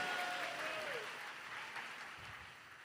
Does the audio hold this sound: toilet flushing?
no